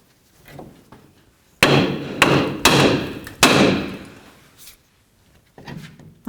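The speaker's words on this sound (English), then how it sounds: "use our hammer, and we're going to bonk along this area here to try to break the upper ball joint free from the knuckle itself" Hammer blows against the steering knuckle of a 1994-2004 Chevy S-10 to free the upper ball joint: several sharp metallic bangs in an uneven burst, close and loud, with brief quiet gaps and no talking.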